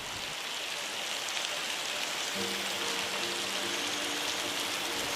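Heavy rain pours down on a forest in a dense, constant hiss, loud and unbroken for the whole stretch, with a faint low hum joining partway through.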